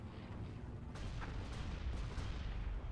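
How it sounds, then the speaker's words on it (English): Unit blowing up in the Zero-K real-time strategy game, a low rumbling boom with a few crackling bursts over steady dense battle noise, heard without voices. "Now it goes kaboom."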